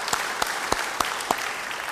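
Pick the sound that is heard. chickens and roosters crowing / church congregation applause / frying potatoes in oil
church congregation applause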